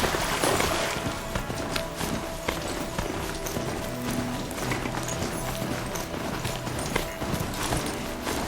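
Mount footsteps in Horizon Zero Dawn pound along in a fast, steady clip-clop as the machine steed carries its rider, loud and continuous over a busy game soundscape with faint music or ambience beneath.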